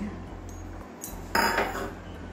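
Saucepan of water for boiling soya chunks set down on a kitchen stove, giving a low hum, a soft tap, then a sharp metallic clank and a brief ringing clink.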